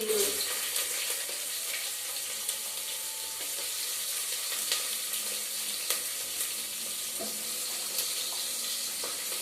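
Cumin seeds sizzle in hot oil with a steady, fairly quiet crackling hiss, a few sharper pops rising out of it; no voices are heard.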